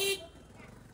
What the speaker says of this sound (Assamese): এই পিছফালৰ পৰা হৰ্ণৰ চাউণ্ড